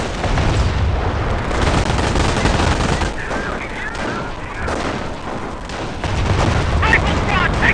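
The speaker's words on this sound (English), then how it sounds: "Rifle squad taking fire!" Loud, sustained gunfire and explosions in a war video game, with rapid bursts and thuds rolling throughout, easing a little in the middle before picking up again.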